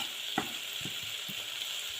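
Masala mixture sautéing in a pan for beef curry, a soft steady sizzle with a few light clinks of a stirring spoon against the pan, close and fairly quiet, no voices.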